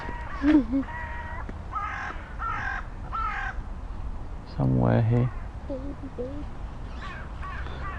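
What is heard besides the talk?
birds, crows cawing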